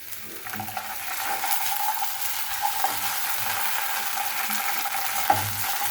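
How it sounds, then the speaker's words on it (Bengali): Ginger-garlic paste fries in mustard oil in a pan with onions, giving a steady, close sizzle throughout with a few light scrapes and taps of stirring. "আদা রসুনটা আমি একটু ভালোভাবে ভেজে নিচ্ছি।"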